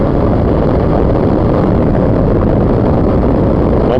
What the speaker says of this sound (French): Vous devriez entendre beaucoup plus la moto et peut-être un petit peu moins moi-même.